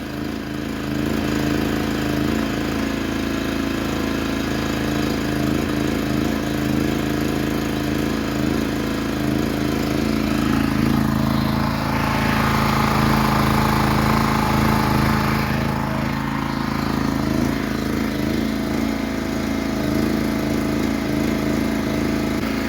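A portable generator engine runs steadily and loudly up close for the whole stretch, a continuous buzzing drone with slight wavering in pitch and no talk over it.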